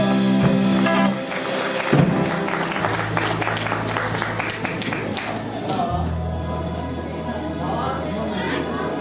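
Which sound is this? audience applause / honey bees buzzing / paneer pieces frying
audience applause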